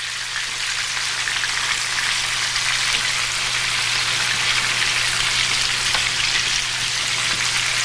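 Meat sears in a hot pan alongside sliced onion, a continuous loud crackling sizzle with a steady low hum underneath, and no voices.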